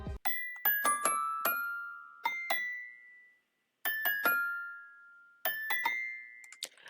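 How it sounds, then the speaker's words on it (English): Bright, chiming bell melody programmed as a top line in a hard trap beat, ringing tones with short decays played in phrases, separated by a brief full pause before returning. "Initially, I thought about layering even these bells as a top melody."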